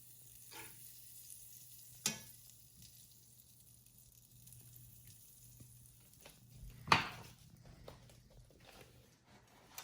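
Butter melting in a hot pan before bison and potatoes are cooked, giving a faint, steady sizzle with a low hum, broken by two sharper clanks or scrapes of utensils, close and quiet, with no talking.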